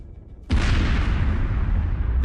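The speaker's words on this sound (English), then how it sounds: "At first glance, the explosion is insignificant, but it is followed by a fire" A tank struck by a kamikaze drone: after a faint low rumble, a sudden heavy blast erupts, followed by sustained roaring, crackling noise from fire and detonation, loud and broad.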